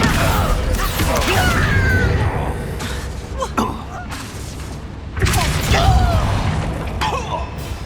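Bombarda blasts in Hogwarts Legacy go off in two loud booming bursts with crackling debris, over game music and scattered voices.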